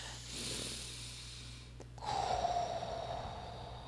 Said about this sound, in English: it's time to take a group deep breath